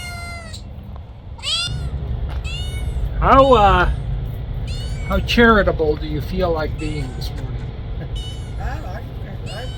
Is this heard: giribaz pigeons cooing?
no